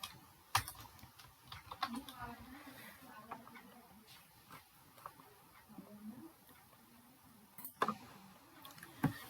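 Keys clack on a computer keyboard as a code comment about exporting Excel sheets to PDF is typed in VBA, quiet irregular taps with a couple of sharper strikes under faint background murmur.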